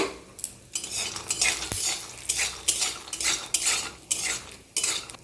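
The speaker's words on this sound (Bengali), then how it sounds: "যতক্ষণ না ভাজা হচ্ছে ততক্ষণ আমি এইভাবে নাড়তে থাকবো, যাতে বাদামটা পুড়ে না যায়।" Peanuts frying in hot oil in a wok are stirred with a metal spatula, giving repeated close scraping clatters against the pan over a soft sizzle, no voices.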